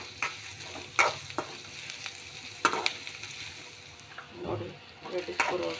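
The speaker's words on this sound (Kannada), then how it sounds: "ಅದಕ್ಕೆ ನಾವು ಹೆಚ್ಚಿಟ್ಟ ದೊಡ್ಡ ಒಂದು ಈರುಳ್ಳಿ, ಇದನ್ನು ಕೂಡ ಬರುವಾಗೆ ಫ್ರೈ ಮಾಡ್ಕೊಳ್ಳೋಣ ನೀಟಾಗಿ." Chopped onion for Uttar Karnataka jhunka frying in a pan, with a low sizzle and repeated sharp clacks of a spatula stirring against the metal, some quiet voice-like sounds mixed in.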